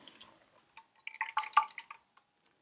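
Homemade hazelnut milk poured into a cloth nut milk bag gives soft, scattered trickles and drips that build into a brief cluster of splashy patters, then taper to a last drop in near silence.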